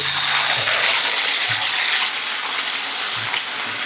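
Prawn crackers dropped into hot oil give a bubbling, crackling fry with a few soft knocks, loud and close throughout.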